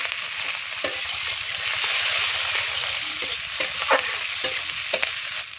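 Cumin seeds, onion, green chilli and boiled potatoes frying in a pan for a fish curry, a steady hiss of sizzling oil with scraping stirs and occasional clinks, close by.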